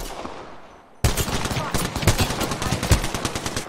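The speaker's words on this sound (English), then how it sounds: "Getting shot at." Rapid automatic gunfire bursts and single shots crackle loudly in a battle royale match of Apex Legends, dense and close, with impacts layered over a steady background of game noise.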